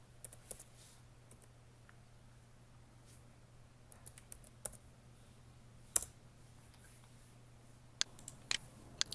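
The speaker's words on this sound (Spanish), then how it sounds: "presiono mi flecha de navegación derecha en mi teclado para seguir hacia la derecha los números" Sparse, faint clicks of computer keyboard keys, including arrow keys, pressed one at a time at irregular intervals over a steady low electrical hum in a quiet room.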